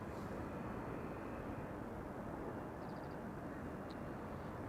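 LATAM Cargo Boeing 767 taxiing at Amsterdam Schiphol airport on a sunny day, a steady distant engine rumble and broadband roar holding level throughout with no voices.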